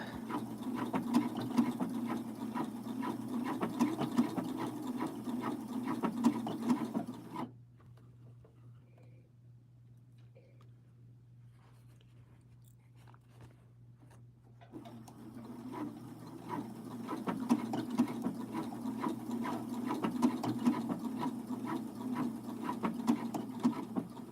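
Sewing machine stitching and tacking near a thick side seam of a garment, a quiet rapid patter for several seconds, then a pause with a low hum, then the stitching resumes.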